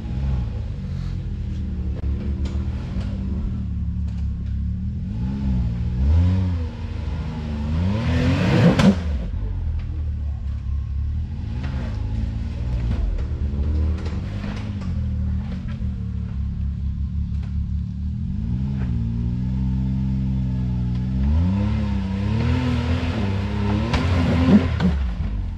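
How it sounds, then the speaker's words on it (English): Off-road vehicle engine on a rocky creek trail with 35-inch tires, rumbling steadily up close and rising in a few revving surges while climbing a ledge. "Hey Ed, get your tires on that top ledge and hit it harder from the get-go and let off when you get up"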